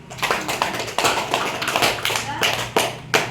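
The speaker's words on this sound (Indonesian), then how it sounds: "Tepuk tangan untuk kelompok Rizky." A classroom group of students claps for a fellow student group, a handful of uneven, separate claps close by, with chatter and voices running underneath.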